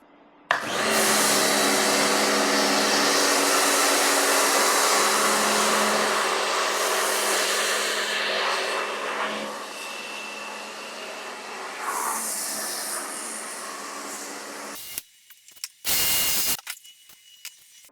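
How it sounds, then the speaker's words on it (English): A pressure washer sprays foam over a car and then rinses it down, a loud, steady hiss of spray running without a break for about fifteen seconds, then cutting out into short bursts near the end. "So that's the pre-wash. You know, just pretty much just foam the thing, and when you're ready, just blast it off."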